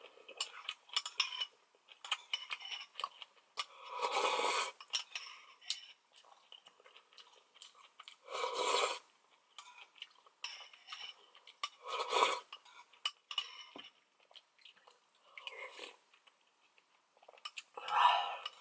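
Soft, close chewing of sticky rice in rich beef bone soup, with utensils clinking against a bowl, comes in intermittent bursts, with quiet pauses between them and no talking.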